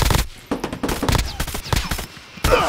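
Rapid bursts of gunfire from a CX-9 in a shooter video game, loud close repeated shots in several quick volleys separated by short gaps.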